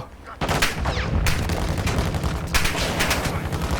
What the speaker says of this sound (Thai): ฝั่งนู้นเขากราดยิงอะไรขนาดนั้น